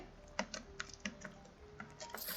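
Keys on a computer keyboard clatter in irregular quick taps during a Roblox Banana Eats game, with a short burst of rapid strokes and quiet gaps, close and fairly soft.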